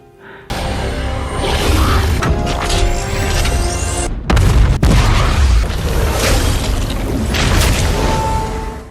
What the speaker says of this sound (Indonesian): Marshall dan Chuck kemudian meledakkan Striker Eureka yang mereka kendalikannya.